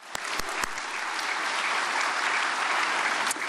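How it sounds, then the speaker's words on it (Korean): Sustained audience applause at a church prayer meeting, loud and dense, with a few sharper claps standing out near the start and again near the end. "나오실 때 큰 박수로 환영해 주시기 바랍니다"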